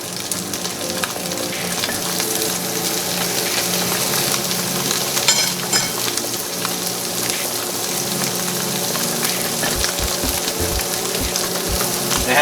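A New York strip steak sears in a cast iron pan on full heat, giving a loud, steady crackling sizzle that runs without a break from start to finish, with a few low thumps near the end.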